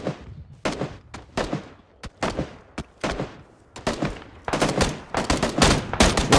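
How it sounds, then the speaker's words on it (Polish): Rapid bursts of gunfire and booming shots in PlayerUnknown's Battlegrounds, some single cracks and some clustered volleys, loud and close with echoing tails. "to jest strzał dopiero"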